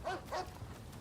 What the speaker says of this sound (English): It's the fucking dog in game.